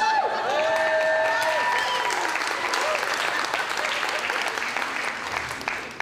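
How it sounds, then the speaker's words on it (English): Wedding guests applauding the bride during a reception speech, loud dense clapping with a few cheers and whoops at the start, continuing steadily as the crowd claps on. "Everyone give her a round of applause."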